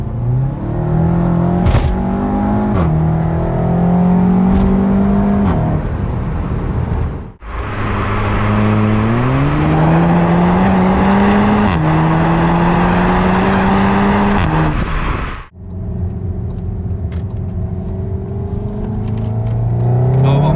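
A car with an automatic gearbox accelerates hard, its engine note climbing steadily in loud, close rising sweeps, dropping briefly at two gear changes before pulling up again.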